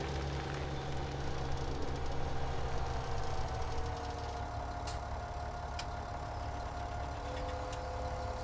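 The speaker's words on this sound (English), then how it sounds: "Okay, we'll put the tractor to work here." A tractor engine in Farming Simulator 17 runs at a steady low idle. It holds a continuous droning rumble with a faint tonal whine on top, and a few brief clicks come in near the end.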